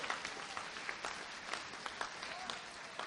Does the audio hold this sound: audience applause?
yes